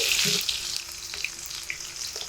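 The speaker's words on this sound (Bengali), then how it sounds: "গরম তেলের মধ্যে বেটে রাখা রসুন দিয়ে দিচ্ছি একটু নেড়ে চেড়ে দিচ্ছি" Crushed garlic dropped into very hot oil and stirred, a loud hissing sizzle at first that settles into a quieter steady frying with a few soft pops.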